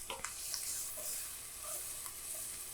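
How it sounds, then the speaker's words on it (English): Onions sizzle in a pan for a vegetable pot pie, a soft, steady frying hiss broken by a few light stirring scrapes near the start and end. "We'll just give these onions a little stir, make sure that they don't burn or brown too much."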